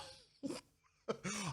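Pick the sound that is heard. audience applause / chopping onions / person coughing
person coughing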